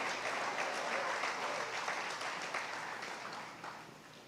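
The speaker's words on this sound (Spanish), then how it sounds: "Aplauda a Jesucristo." A church congregation at a sermon applauds with dense, continuous clapping that tapers slightly toward the end, with no voices over it.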